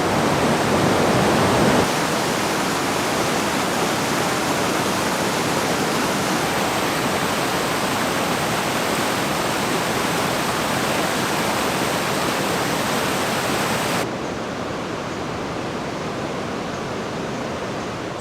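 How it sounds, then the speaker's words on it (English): The Murray River at Dwellingup trickles and rushes over rocks in a steady, dense wash of water noise that continues unbroken throughout, with no voices. "the river will trickle down from between that rock and then the bigger rock you see"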